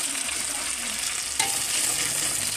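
Chillies crackle and sizzle in hot oil, a bright continuous frying hiss with a faint stir or clink partway through, heard close and alone.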